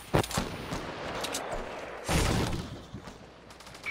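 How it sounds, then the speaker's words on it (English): Gunfire in a video game: a sharp close shot, then a rattling spray of rapid shots and a heavier burst midway, loud and crackling, with no clear talking over it. "Who's shooting?"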